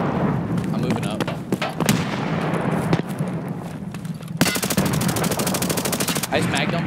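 Rapid automatic gunfire from the video game Escape From Tarkov, including a long sustained burst near the end, plays over continuous game ambience while players talk loudly over the shooting.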